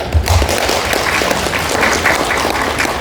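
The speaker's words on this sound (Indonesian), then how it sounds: "Mungkin bisa tepuk tangan dulu." Audience applause at a parents' gathering for the Faculty of Tarbiyah and Teacher Training at IAIN Manado, during the dean's address: steady, dense clapping from a large room that lasts the whole few seconds.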